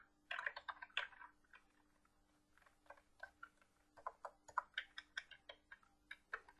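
Keys clack on a computer keyboard as an HTML p tag is typed, a quick burst of keystrokes followed by a steadier run of separate taps, close and fairly quiet.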